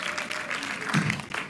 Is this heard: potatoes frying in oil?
no